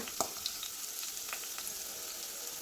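Crushed ginger, garlic and green chilies frying in a pan for a Kerala-style malan fish curry, a faint steady sizzle with a few light clicks of stirring, no voices.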